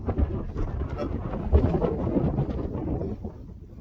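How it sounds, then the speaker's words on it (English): Steady outdoor wind on the coast of The Wash in South Holland, England, rumbling and buffeting a microphone, low and continuous, with a couple of louder gusts partway through. "it's still a little bit windy"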